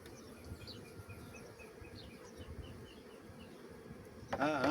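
Honeybees buzz steadily around a caged queen bee in an isolator, a close, continuous droning hum with a few nearby wingbeats, ending in a louder burst at the very end.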